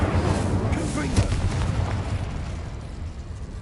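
A Confringo explosive spell blast in Hogwarts Legacy, a deep rumbling boom with a low roar that swells early and then sustains steadily, loud and fairly close with no separate sharp crack.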